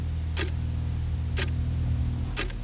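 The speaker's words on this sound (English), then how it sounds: "clock ticking somewhere in darkness" Three slow, evenly spaced clicks from a ticking clock sound about a second apart over a steady low hum and faint hiss.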